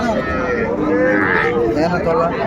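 At a busy cattle market, a cow lets out a long, loud low moo against the crowd noise while people talk nearby.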